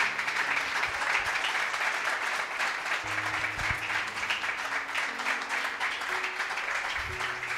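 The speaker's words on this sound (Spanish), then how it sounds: "¿Cuánto le dan un aplauso al Señor bien fuerte?" A church congregation claps loudly and continuously in praise during a Spanish-language service, the steady applause running throughout with faint low musical tones sounding beneath it.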